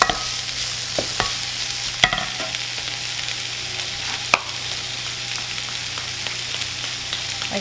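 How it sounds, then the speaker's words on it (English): Thinly sliced eggplant stirred in a frying pan for shakshuka, a steady hiss of frying overlaid with a few sharp utensil knocks and scrapes against the pan, close and without talk. "Stir."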